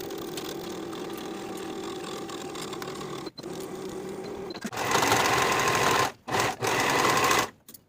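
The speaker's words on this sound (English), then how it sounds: "Sew this seam with a 5/8 inch seam allowance" A home sewing machine stitches a seam on A-line shorts, a continuous close whirring that stops briefly, then resumes louder and faster before cutting off twice near the end.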